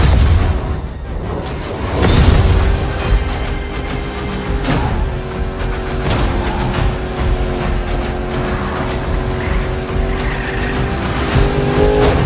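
Cars racing in Need for Speed: Payback, with loud engine revving, tire squeals and skids, and a heavy impact boom early on, all continuous and close under a layer of game music.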